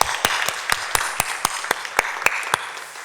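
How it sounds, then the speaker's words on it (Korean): A church congregation at a Sunday evening service claps together in a steady, evenly spaced rhythm of about a dozen sharp claps over a few seconds, the clapping clear and fairly close with no talk over it. "박수로 영광 올려드리겠습니다."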